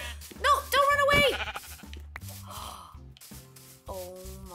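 A Minecraft sheep gives a short bleat amid other farm-animal game sounds, with a person talking over much of it.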